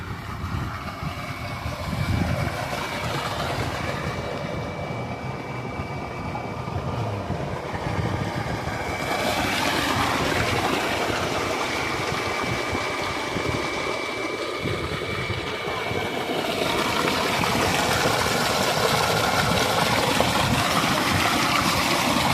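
Water pours from a solar-powered pump's outlet into a farm field, making a continuous rushing gush that swells and eases a little over time, close by and without speech.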